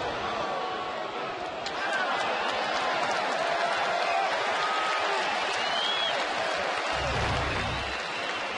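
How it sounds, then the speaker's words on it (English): A crowd at a Red Sox–Athletics baseball game at Fenway Park claps steadily in a broad, sustained wash of applause, with a broadcaster talking over it. "Crowd clapping as they see the 101 go up on the scoreboard in center field."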